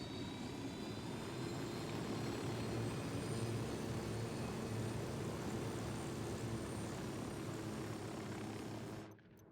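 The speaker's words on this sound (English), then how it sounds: "the helo is back again" A helicopter flying in a multiplayer shooter video game, steady loud rotor and engine drone holding constant for about nine seconds before cutting off abruptly, with no talking.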